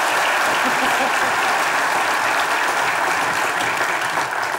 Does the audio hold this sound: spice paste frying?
no